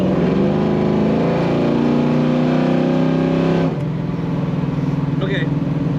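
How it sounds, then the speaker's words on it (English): A 1970 Chevrolet Camaro coupe's engine revs hard under pressed throttle, a loud, close, rumbling roar that holds steady, then drops sharply and settles back to a lower idle-like burble. "This one I really just want to keep hitting the throttle to hear it."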